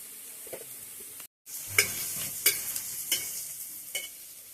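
Boneless meat frying in oil in a pan: a close, steady sizzle, cut by a brief silent gap, followed by several sharp spatter and scrape accents over the hiss, with no talk.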